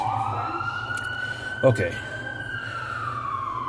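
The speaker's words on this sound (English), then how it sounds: "Yeah, sirens in the background." Ambulance sirens wail in the distance, a steady rising and falling tone behind a nearby speaker who briefly talks over them.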